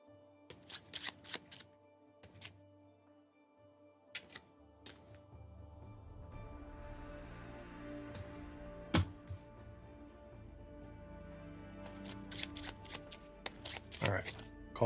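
Board game cards for the Arydia: The Paths We Dare Tread solo campaign being shuffled by hand in several quick riffling bursts, close and crisp, with quieter handling noise and a voice speaking in between.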